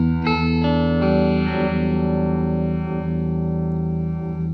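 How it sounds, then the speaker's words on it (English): A sustained, warm electric guitar chord through a Chase Bliss Audio Wombtone MKII analog phaser pedal on a soft setting swirls with a gentle, slow phaser sweep; notes ring out together and decay softly with no voices present. "we get a much more kind of, a less pronounced phaser effect, but still all the warmth of the analog sound"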